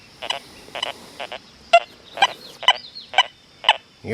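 Deus 2 metal detector in the sensitive FT multi-frequency program giving a target signal over a coin above nails, with a series of about nine short, strong beeping tones at a steady rhythm, louder toward the end.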